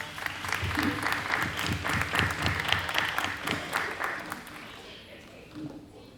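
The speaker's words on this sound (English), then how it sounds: "Can we please give them a round of applause?" A room of town hall attendees claps for the public educators who are standing. The applause is steady and fairly dense for about four seconds, then thins out and fades. Murmuring voices from the crowd can be heard underneath.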